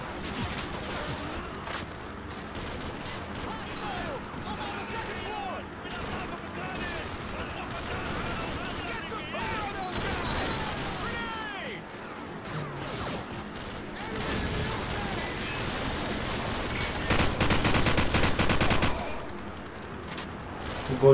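Gunfire in Call of Duty 4: Modern Warfare, with rapid bursts of automatic weapon fire and scattered shots throughout, growing louder near the end, while a person talks over the battle.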